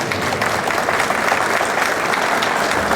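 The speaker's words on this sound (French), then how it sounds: "Et là, je vous demande de l'applaudir." An audience at an electronics and energy expo in Casablanca claps in steady, dense applause, loud and even throughout with no pauses.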